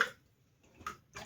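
Homemade chicken broth drains into a bowl in a few short, close liquid pours and splashes, separated by quiet gaps.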